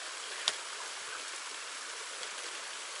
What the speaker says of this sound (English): Oh look, we get a little waterfall right over there